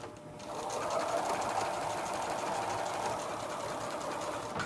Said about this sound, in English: we're going to just baste a stitch down the center of our bow